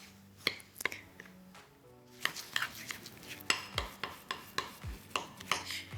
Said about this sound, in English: Put it all together and mix her up